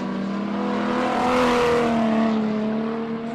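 A stock car roars past on an oval circuit at a Border Stockcars meeting, its engine note swelling as it approaches and fading as it pulls away, loud and close with no talk over it.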